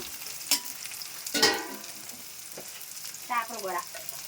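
Chillies and onions sizzle in a pan while a spoon stirs them, giving short scraping bursts that arrive irregularly every second or so over a quiet, crackling fry.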